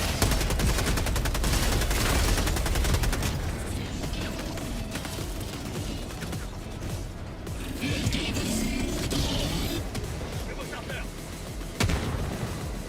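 Rapid gunfire and explosive bursts from the video game Helldivers II, dense and loud throughout, with players talking over the battle.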